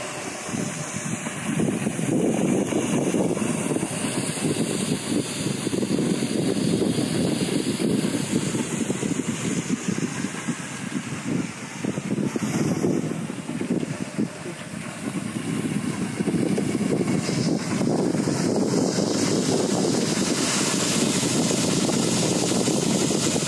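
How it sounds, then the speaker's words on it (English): Strong wind roars continuously against the microphone, a loud, rumbling buffeting with a steady engine-like drone underneath. "It is pretty windy here today."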